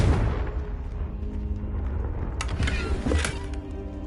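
Confringo fire-blast spell in Hogwarts Legacy: a bright burst erupts partway through and is followed by a second crackling blast, all over a steady low rumble of background game sound.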